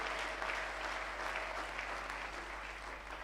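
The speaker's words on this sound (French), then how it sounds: "On peut acclamer, je termine." A church congregation claps at a sermon, steady, dense applause that stays even and sustained throughout, with no one speaking over it.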